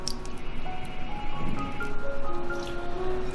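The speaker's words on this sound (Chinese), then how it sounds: "再用清水多泡洗几遍" Soaked peach gum rinsed by hand in clean water gives soft squelches and sloshing drips, with a faint tonal melody in the background.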